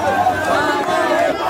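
A welcoming crowd in Bunia, Ituri, greets the prime minister with a steady, dense babble of cheering voices and chatter, loud and continuous throughout.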